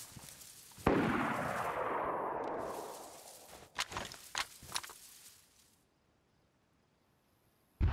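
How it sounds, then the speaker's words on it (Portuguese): Gunfire in the survival video game DayZ, a sharp burst followed by a long decaying roar, then several distinct quick shots spaced apart, fairly distant, before near silence and one final crack. "Vamos ver se eu acho esse cara que tá atirando em mim."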